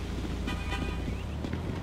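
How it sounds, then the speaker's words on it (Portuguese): In Grand Theft Auto V, a car horn toots in a couple of short honks against steady traffic and engine noise. "Tá buzinando aí na frente, tá ouvindo?"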